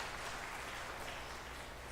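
Crowd at an elementary school graduation applauds students and teachers, a dense, even patter of many hands clapping at moderate distance, sustained without a break.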